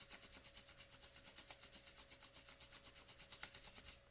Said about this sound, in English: And now, rub your hands together.